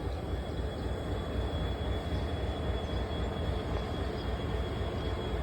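Steady low rumble of a train at a station platform with a thin high-pitched whine running through it, constant and fairly close, no talking.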